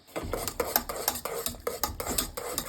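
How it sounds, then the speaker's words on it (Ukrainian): A spoon stirs chocolate honey cake cream in a pot on the stove, with quick, rhythmic scrapes and clinks against the metal. The sound is close and fairly quiet, with no talking. "Цей крем теж треба постійно помішувати, доки не закипить."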